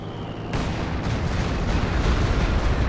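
Stuka dive-bomber barrage explosions in Company of Heroes 2, a dense continuous roar of overlapping booms and blasts that swells sharply after a quieter opening and stays loud throughout.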